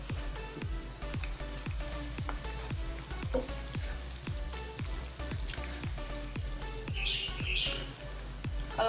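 Shrimp are dropped into a pan of sambal paste thinned with water and fry with a constant close sizzle, punctuated by regular sharp tapping and stirring clicks, with faint bird chirps in the background.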